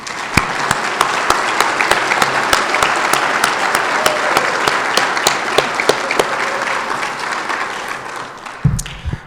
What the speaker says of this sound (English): So let's do a final round of applause.